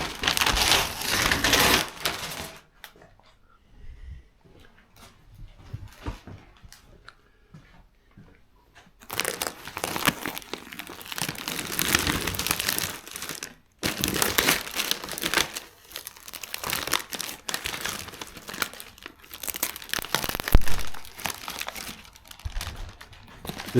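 Masking covering being peeled and crinkled off a freshly repainted 1976 BMW 2002, giving bursts of papery crackling and crumpling, close and fairly loud, with a quieter pause in the middle and no talking.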